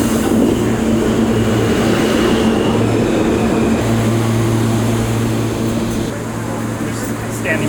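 Loud steady rumble and hum of a New York City subway train idling in a station, constant droning tones with faint voices underneath.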